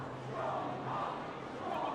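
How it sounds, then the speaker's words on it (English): Courtroom crowd in The Great Ace Attorney Chronicles roaring and cheering in a steady, dense wash of many voices, loud and continuous throughout with no clear pauses. "Why are you cheering?"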